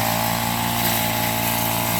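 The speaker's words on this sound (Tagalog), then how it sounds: "Kaya ayan o, pare ko nag-grass cutter." A grass cutter mows grass in a pineapple field in the early morning, its small engine droning loud, close and steady throughout with no talk.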